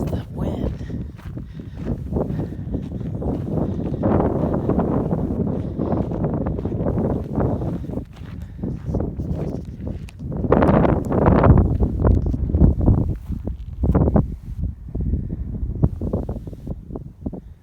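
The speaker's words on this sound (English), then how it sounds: "Jesus, the wind." Strong wind buffets a microphone on an open hillside, a continuous loud rumbling roar with gusts swelling and easing throughout.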